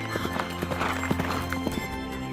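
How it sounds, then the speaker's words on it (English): Horse hooves clip-clopping in a walking rhythm, sharp distinct knocks in steady succession, fairly close and loud, with a brief neigh-like tone beneath. "Watch how the horse moves"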